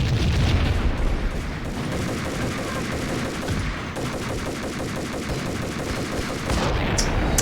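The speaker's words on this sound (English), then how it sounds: "This man shooting me" Rapid bursts of gunfire from the Max Payne video game rattle steadily for several seconds. Automatic fire stutters in a dense rhythm with occasional heavier booms, and there is no speech.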